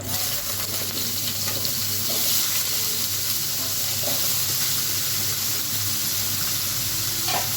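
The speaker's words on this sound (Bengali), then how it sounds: "আগে বেগুনটা ভাজবো শাকের জন্য, বেগুনটা আগে ভাজবো এই তেলে" Eggplant frying in oil gives a steady, close sizzle with faint scraping and clinks under it, broken by a few brief splashes of water.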